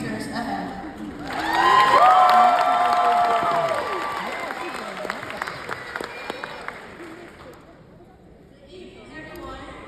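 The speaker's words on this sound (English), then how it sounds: "Let's give them a warm round of applause as they take the stage" Audience applause and cheering at a graduation ceremony in New Orleans, swelling to a loud peak early on and then slowly fading, with whoops and shouts over the clapping and a few sharp claps near the end.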